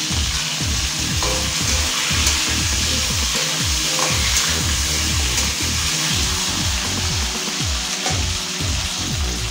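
Cut potatoes sizzle steadily in hot oil in a pan seasoned with green chilli, while a spatula scrapes and stirs them in a repeated, close-up rhythm, with no voices over the constant frying hiss.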